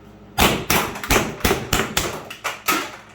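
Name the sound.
high power less lethal launcher firing rapidly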